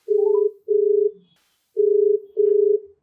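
Telephone tones for placing a call: four steady beeps in two pairs, each about half a second long, with a short high chirp at the start and silence in between.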